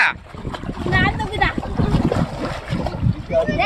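A child jumps into a pool or tank of water during family swim time, a short splash set among splashing and excited talk from adults and children.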